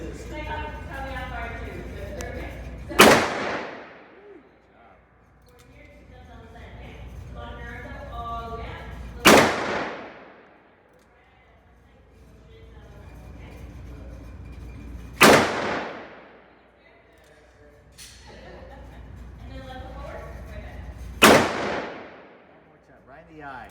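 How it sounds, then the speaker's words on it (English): Four loud, sharp shots from a large hand-cannon handgun ring out at a Las Vegas shooting range, spaced about six seconds apart, with people talking in between. "It's a hand cannon."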